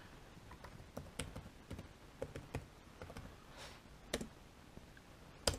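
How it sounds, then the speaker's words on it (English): Keys tapped on a computer keyboard during a web search for car parts, a quiet, irregular run of close clicks with short pauses and one firmer keystroke at the end. "And I'm just using Google and just typing in stuff"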